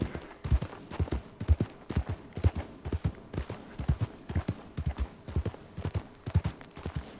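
Horse hooves clip-clop at a steady trotting rhythm in the video game Red Dead Redemption 2, loud and close, with faint background sounds and no clear talk.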